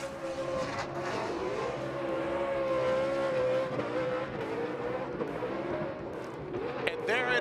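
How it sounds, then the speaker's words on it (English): Formula Drift car doing a celebratory tire burnout at Irwindale Speedway, the engine droning at high revs under a commentator's voice, with a sharper burst near the end. "a celebratory burning of tires here at the iconic track, Irwindale Speedway"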